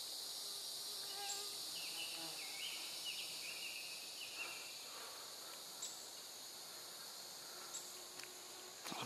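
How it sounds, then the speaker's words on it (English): Thin high-pitched insect buzzing close to the microphone, rising and falling over a steady background of insect chirring. "Mosquito right in the lens."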